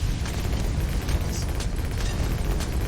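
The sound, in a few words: explosions in video game Bloons TD 6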